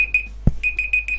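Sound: alarm ringing

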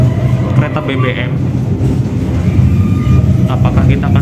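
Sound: Taksaka train at Bumiayu station, crossing a fuel train

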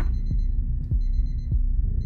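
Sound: alarm clock ringing in a horror video game

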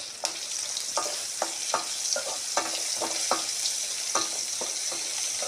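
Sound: urad dal frying in a pan

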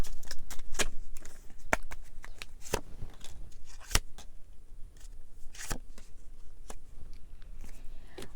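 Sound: tarot advice cards being shuffled and drawn

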